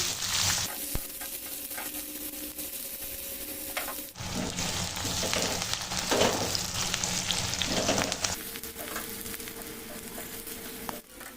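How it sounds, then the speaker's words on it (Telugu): Soaked onions frying in a pan until brown, a continuous hissing sizzle that swells louder midway and then settles, close and without speech. "ఉల్లిపాయలు బ్రౌన్ కలర్ వచ్చే వరకు వేయించుకున్నాము"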